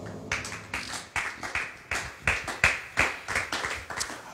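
A church congregation claps in steady rhythm to acclaim the word of God, a continuous run of crisp, evenly spaced handclaps at a moderate tempo, slightly distant and fairly quiet.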